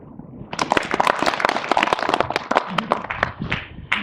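An audience at a scholarly presentation at Giksan Chungui-won in Andong welcomes Professor Lee Kwang-woo of Yeungnam University. After a quiet start, loud, close applause breaks out: many sharp individual claps in a brisk, uneven burst that carries on to the end.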